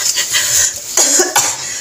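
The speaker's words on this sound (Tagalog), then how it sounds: "In fact, inuubo pa ako." A person with a severe cough, coughing loudly and close up in a few harsh bursts.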